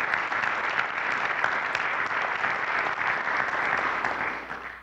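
Big audience applause at a jobs summit with the mayor-elect, sustained dense clapping from a large crowd, loud and even throughout before tapering off at the end.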